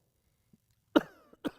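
A lecturer coughs twice during a geography class, a sharp close burst followed half a second later by a shorter one, with silence and no talk around them.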